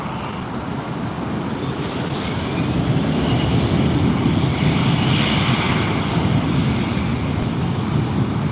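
An airliner departs LAX, its engine roar loud and steady, swelling slightly and holding as a broad rumble with no voices.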